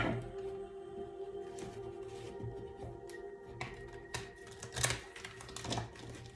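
Soft riffling and clicking of cards being shuffled, a few sharper snaps near the end, over steady low background hum.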